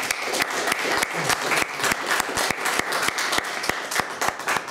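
An audience at a Lega Nord youth committee election meeting in Trentino applauds steadily throughout, a dense, continuous clapping from a crowd of people with sharp individual claps standing out.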